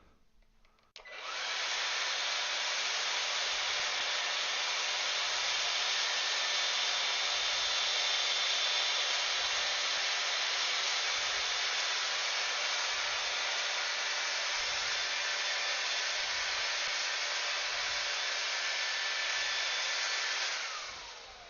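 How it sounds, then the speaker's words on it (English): Air is blown steadily over the top of a strip of tape, a loud, continuous rushing hiss that runs unbroken for about twenty seconds before cutting off. "So I'm going to blow air over the top of the tape."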